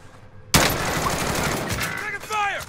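Gunfire in Call of Duty Warzone Rebirth gameplay erupts suddenly into a loud, dense burst of rapid automatic shots, with a voice speaking over the shooting near the end.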